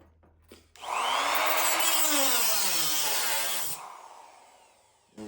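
A cutting disc on a power tool grinds a slit into a metal rocker panel in one loud, sustained whine lasting about three seconds, its pitch shifting as it bites, then it winds down. The sound is close and runs alone.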